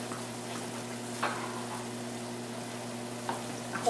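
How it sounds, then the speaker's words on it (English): Fresh garlic hits a hot pan of pasta sauce with sausage, giving a continuous sizzle with a few stirring scrapes over a low steady hum. "A whole bunch of fresh garlic goes in"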